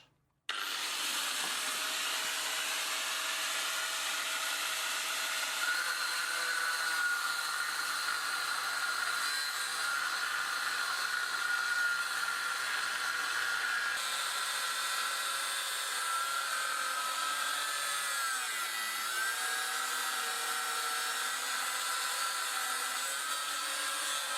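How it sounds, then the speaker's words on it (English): A steady, high-pitched whining grind from an angle grinder cutting on a bicycle runs continuously at moderate level, a harsh hissing power-tool drone with slight pitch shifts and no voices. "I think the only option left here is to use the angle grinder."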